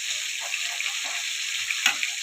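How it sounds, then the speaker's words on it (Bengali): Tilapia fish frying in hot oil, a steady close hiss of sizzling with a few soft pops and one brief clink near the end, no voices. "মাছগুলো এখন ভাজতে থাকছি।"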